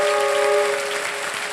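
Steady applause from a TV quiz show studio audience fills the moment, a dense wash of clapping with a faint tonal hum underneath.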